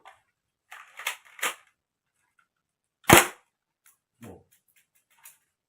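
Light mechanical clicks lead up to a single sharp, loud crack from a Black Mamba P377 toy air pistol, followed by a few more soft clicks.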